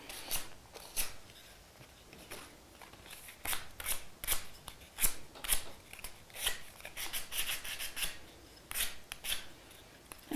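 Dry scraping and rasping as a spring craft piece is distressed by rubbing its edges, with repeated short strokes in uneven bursts, close by and fairly quiet, with no talking.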